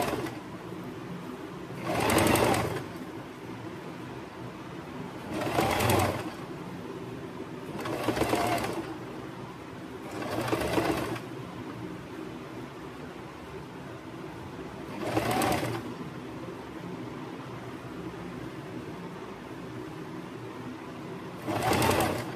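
A sewing machine runs pico stitching on thread in short bursts: about six brief whirring runs spaced a few seconds apart, fairly near and clear over a quiet room.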